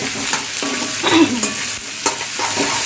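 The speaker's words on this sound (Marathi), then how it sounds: "तेल चांगलं गरम झाल्यानंतरच तुम्ही जिरा आणि मोरी टाका" Cumin and mustard seeds hit hot oil for a tempering, giving a dense close crackle with sharp spitting pops throughout, and no voices.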